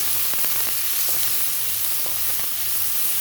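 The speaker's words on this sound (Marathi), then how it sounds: "आणि तो ब्राऊन होईपर्यंत परतून घ्यायचा आपल्याला." Finely chopped onion for egg masala sautéing in a pan until brown, a steady close sizzle with faint scraping stirs, no talking.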